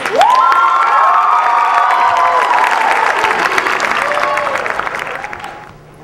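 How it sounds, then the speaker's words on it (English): An audience welcomes a student cast before their original play, Detention Rhapsody, with loud applause mixed with cheers and whoops. The clapping and shouts hold strong, then fade out over the final second. "So let's give them a warm welcoming applause."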